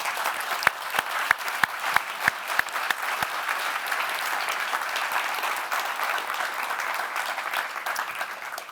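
Audience applause fills a conference opening ceremony on digital humanism, steady dense clapping throughout with a few sharp louder claps near the start, no talk over it.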